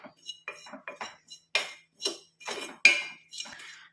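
A spatula stirs powder being dry-fried in a pan on low flame, making a run of irregular, close scrapes and metallic clinks against the pan with short pauses between strokes.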